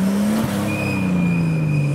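A Nissan Skyline R33 rolls into a car meet with a loud, close engine drone whose pitch slides gradually downward as it eases in. A faint higher whine runs above it.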